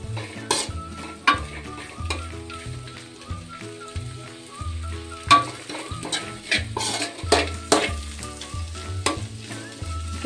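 Cabbage stir-frying over a high flame for restaurant-style Hakka noodles, a steady loud sizzle broken by repeated sharp scrapes and clanks of a spatula tossing the shreds, with no one speaking.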